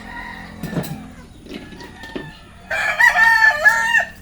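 Fighting cocks crow close by: a short call first, then a louder, drawn-out cock-a-doodle-doo near the end, over faint background noise.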